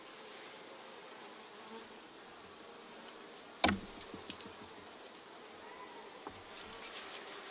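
Faint, steady buzzing of bees around a hive hums in the background, with a sharp click or knock about midway and a few small taps after.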